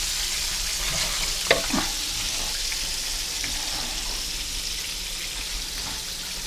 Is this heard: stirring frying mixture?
yes